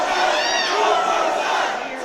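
A wrestling event crowd roars steadily, a dense wash of cheering and shouting voices that holds at an even, loud level throughout.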